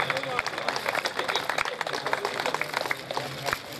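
Loud, dense applause from a crowd at a community meeting of the Jaipuri Luhar Samaj, many hands clapping rapidly and unevenly with chatter and voices mixed in throughout.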